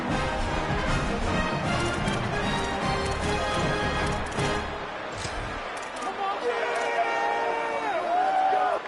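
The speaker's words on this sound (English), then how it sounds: "this crowd is electric trying to stop them" A loud football stadium crowd roars and cheers continuously ahead of a game-deciding two-point conversion attempt, with a commentator's voice over the noise.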